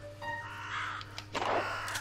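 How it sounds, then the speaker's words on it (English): Crows caw in the Monaco video game, giving a couple of harsh, fairly loud calls over a steady background hum, with no talking. "Okay, those are crows."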